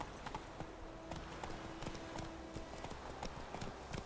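Rapid rhythmic clip-clop of horse hooves galloping in The Witcher 3, steady repeated hoofbeats that sound fairly close but quiet overall, with no voices.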